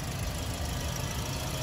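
A 2018 manual-transmission Toyota Vios idles close by with a steady, even engine hum and no talk.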